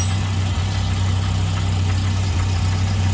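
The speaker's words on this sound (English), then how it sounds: "with the engine running so the height correctors are working" A Citroën XM engine idles steadily with its height correctors working, a constant low rumble with a faint mechanical vibration and no other sounds.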